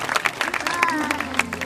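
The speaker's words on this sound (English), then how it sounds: "So give her a huge round of applause." Audience applause at a zoo sea lion show, with scattered claps and crowd noise under a presenter's voice and some whistle-like tones, moderately loud throughout.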